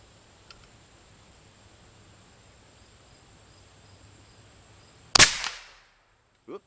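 A Bin Tac M50 air gun fitted with a HUSHCAN suppressor fires once after a long quiet stretch, giving a single sharp, loud crack with a quick decaying tail and a faint click just after.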